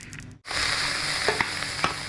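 Oil in a pan on high heat bursts into a loud, steady sizzle after a brief quiet moment, with a few sharper crackles and pops over the hiss.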